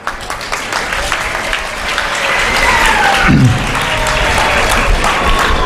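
Applause from an audience welcoming guests at an Independence Day celebration in Mangrol, building into steady clapping, loud and close, with a faint voice underneath.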